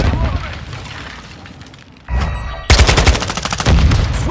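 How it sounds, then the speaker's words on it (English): In Modern Warfare, a thrown grenade detonates with a heavy boom, and close, loud rapid gunfire rattles right after. Combat noise continues beneath. "Throwing grenade!"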